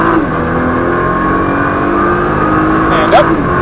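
A Nissan GT-R sports car accelerates hard at full throttle, its engine roaring loud and steady close by, with a brief higher whine near the end.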